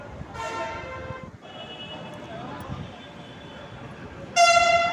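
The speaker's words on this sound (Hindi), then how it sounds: "मेट्रो का इंतज़ार कर रहे थे तो मेट्रो आ गया गाइस।" Harmonic horn blasts sound twice, one near the start and a louder one at the end, over rumbling metro station noise as a metro train comes in.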